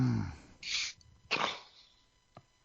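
Two sharp sneezes during a small group gathering, one just before and one just after a half-second pause, followed by a brief faint snort, heard close with no talk.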